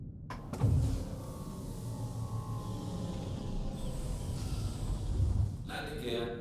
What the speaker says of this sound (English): Landing gear raised.